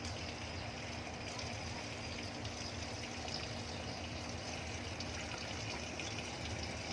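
Water pours steadily into a large plastic water bottle used as a fermentation tank for shrimp-head liquid fertilizer, a continuous soft gushing and trickling at moderate distance with no voices.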